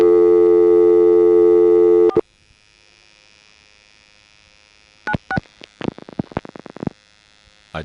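A steady telephone tone cuts off, followed after a pause by a quick series of short touch-tone dialing beeps, loud and close.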